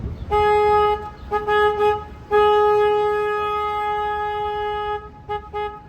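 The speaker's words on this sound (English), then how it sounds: "I'm going to honk the horn right now." A deep, loud tour boat horn on the San Antonio Riverwalk honks several times, a few short blasts followed by a long sustained one and then brief toots, against a low background rumble.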